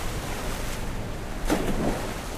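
Storm at sea with a ship caught in it: a steady wash of wind and surf noise, swelling briefly midway with a louder gust or wave surge, no voices.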